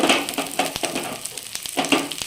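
Spice paste fries in oil with cashew paste and raisins, giving a busy sizzle punctuated by quick scraping stirs, close and fairly loud, with no talking.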